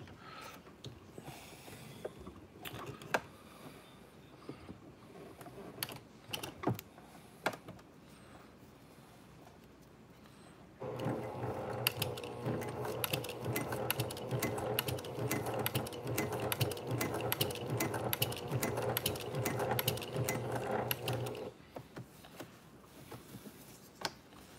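A Brother PQ1500SL sewing machine with a walking foot stitches a game day bag, starting with scattered ticks and short bursts, then running in one steady, fast, rattling stretch of about ten seconds before stopping.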